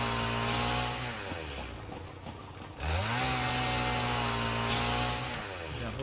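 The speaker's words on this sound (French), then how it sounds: "on va continuer à farmer un petit peu avec notre tronçonneuse" A futuristic chainsaw cuts in the video game Satisfactory, a loud, steady buzzing whine that dips and sags midway, then revs back up to full strength and holds, with no talking.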